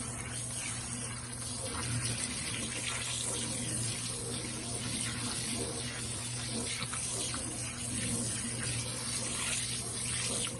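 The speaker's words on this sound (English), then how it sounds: "I'm gonna go ahead and rinse off the soap." Tap water running steadily into a sink while soap is rinsed off crayons, a continuous close splashing gush with faint handling sounds.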